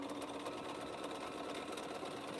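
A sewing machine stitches a quilt in short runs, giving a fast, even mechanical whir that continues without a break and stays moderately quiet.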